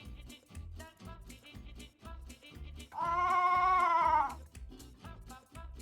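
A sheep bleat sound effect plays once in a Scratch project, a wavering bleat lasting over a second on top of looping, rhythmic background music.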